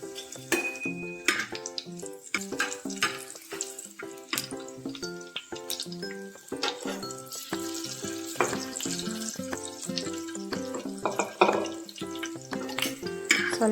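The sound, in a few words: green chillies frying in hot oil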